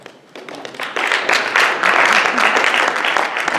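A men's club audience applauds, scattered claps quickly swelling into dense, loud, steady clapping that holds to the end.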